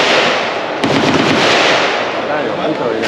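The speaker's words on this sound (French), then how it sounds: "Il tire un balle réelle." Live-ammunition rifle fire at a shooting range: a loud, sharp shot cracks near the start and then gives way to a sustained roar of echo and ambient noise.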